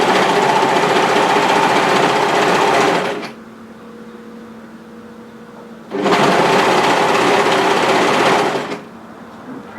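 Loud and close, a sewing machine stitches a cardigan seam in two sustained bursts of about three seconds each, with a quiet pause between them where the motor hum drops away.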